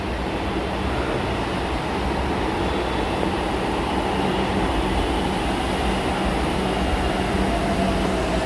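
A steady, dense rumble of a moving metro train fills the clip, an even roar with no pauses and no talking.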